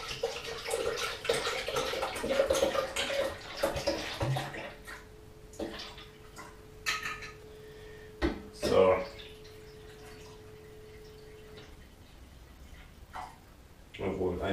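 Red juice poured into a bottle of homemade sparkling kombucha, a liquid splash and trickle in the first few seconds followed by quieter drips and a faint steady tone, with someone speaking over the start.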